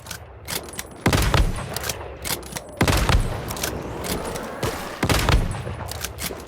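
Sniper rifle shots in the video game Once Human, loud booming cracks fired one after another at irregular intervals, each trailing off into a rumbling echo.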